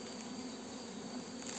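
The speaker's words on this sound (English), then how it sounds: "I just caught my old queen getting killed by the bees." Bees swarm over an old queen bee inside a hive, a steady close buzzing drone with a higher whine running through it, continuous and fairly loud.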